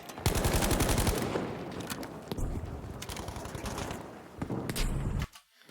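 In a shooter video game, loud rapid gunfire rattles in dense bursts, punctuated by sharp blasts including a grenade explosion, before cutting off abruptly near the end.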